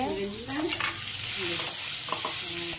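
Potato and parwal curry fries in a pan, a steady close sizzle with occasional stirring scrapes while a voice talks over it.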